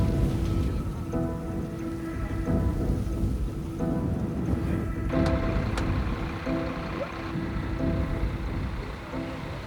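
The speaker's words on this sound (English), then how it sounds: "Rain brings a small relief to the remains of the ravaged town." Steady rain falls over the burned remains of a town ravaged by days of wildfire, a dense continuous hiss with a faint low rumble like distant thunder, no voices.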